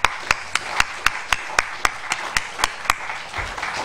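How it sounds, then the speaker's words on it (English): Steady rhythmic clapping at a closing ceremony: about a dozen sharp, evenly spaced claps, close and distinct, with no voices over them. "We need to give you a round of applause."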